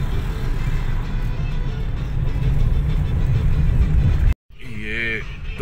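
Car driving through a busy main crossroads in Toba Tek Singh, Pakistan, with a steady loud engine and road rumble throughout, broken by a brief cut before a voice begins speaking near the end.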